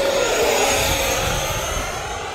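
A USAF Thunderbirds RC model jet flies overhead, its turbine giving a loud, continuous rushing roar with a high whine that holds steady and fades slightly over a couple of seconds.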